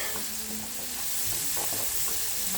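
Garlic sizzles in a pan while being stirred, a dense, steady hiss with soft scraping of the utensil, heard close and continuous with no talking.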